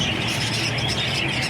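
A small pet bird chirps briefly, quick faint tweets over a steady background hum.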